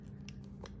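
Scissors snip the tip off a plastic piping bag for decorating sugar cookies, giving two or three short, crisp cuts close up over a steady low hum.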